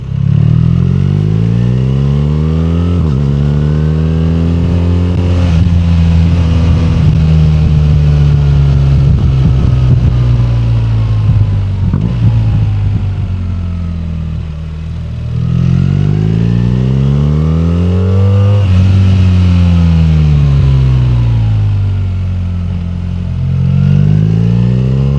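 A BMW R1300RS sports tourer motorcycle is ridden on tarmac, its engine loud and close, climbing through the gears in repeated accelerating sweeps separated by brief shift dips, with wind rush underneath.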